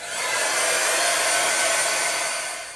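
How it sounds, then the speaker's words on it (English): A heat tool blasts a loud, steady stream of hot air up close while it dries gesso and paint on an art journal page. The sound runs without a break, and no one talks. "I'll just get the heat on there just to dry everything off"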